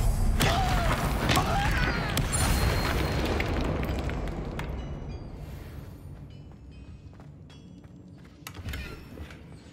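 A Confringo fire spell blast from Hogwarts Legacy erupts in a loud booming burst, then rumbles and fades over several seconds, with a smaller pop near the end.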